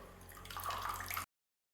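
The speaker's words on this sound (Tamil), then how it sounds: "இப்போ தான் லைட்டாக அந்த தண்ணி வருது." Water trickling out while making coconut chutney, a short soft splashing flow that builds briefly and then cuts off abruptly.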